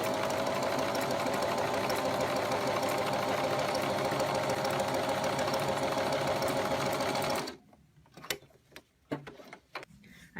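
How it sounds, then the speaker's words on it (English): Sewing machine with an overcasting foot runs an overcast stitch, a fast steady mechanical whirring and ticking for about seven seconds before stopping, leaving a few scattered clicks. "so we can just start to sew"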